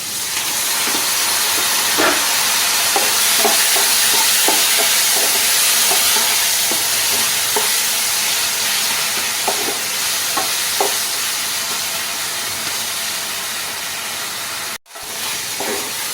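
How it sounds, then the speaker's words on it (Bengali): Ginger-garlic paste and spices frying with a splash of water in a pan for a taro and prawn dish make a loud, continuous hiss and sizzle, with light taps of a spoon stirring throughout. "আর এক চামচে আদা রসুন পেস্ট এইগুলো দিয়ে সামান্য একটু জল দিয়ে আমি এগুলো কষাবো"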